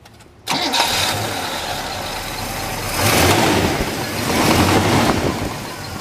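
A 1970 Pontiac GTO Judge with a stock-rebuilt 366-horsepower V8 cranks and fires, then settles into a loud, steady idle with a couple of swells in engine rumble, recorded close with no talking.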